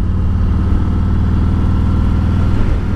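A 2019 Harley Road King with a Rinehart DBX45 slip-on exhaust holding about 2,500 RPM in second gear: a loud, steady, deep rumbling pulse, close and continuous, dipping slightly near the end.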